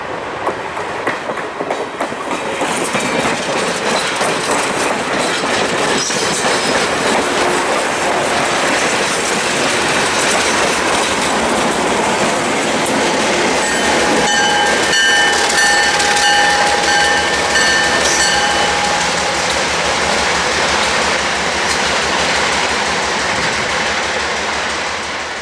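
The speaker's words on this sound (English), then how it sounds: "the Otter Lake local is going to be passing by here in just a minute." The Adirondack Railroad Otter Lake local train passes close by, a loud, continuous rumble of rolling wheels with rhythmic clickety-clack over rail joints and brief squealing tones from the wheels.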